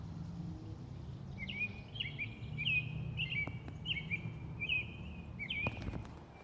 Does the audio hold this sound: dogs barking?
no